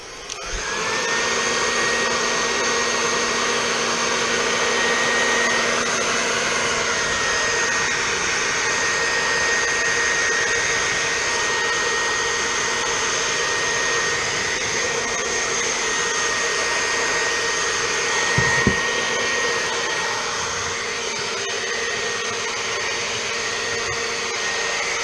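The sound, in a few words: heat blower heating an installation during phone repair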